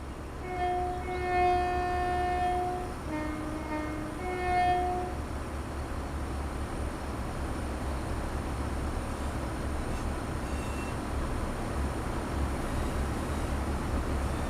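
Simulated train from Train Sim World 5, a smoky locomotive, rumbles steadily with low engine drone throughout, a few sustained horn-like tones sounding early on before the run settles into continuous rolling noise.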